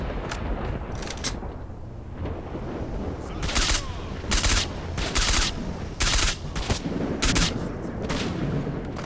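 Sniper and other gunfire in the shooter game S.T.A.L.K.E.R. comes as a string of sharp, loud cracks at uneven gaps over a busy, rumbling game background, with a voice briefly audible between shots.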